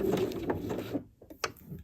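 A sewing machine stitches a seam, running briefly in reverse for two stitches and then forwards, with a steady mechanical whir and clatter that pauses before a couple of short bursts resume.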